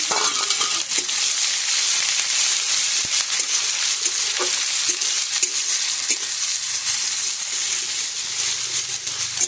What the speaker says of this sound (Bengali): তো এগুলো আমি লাল লাল করে ভেজে নিই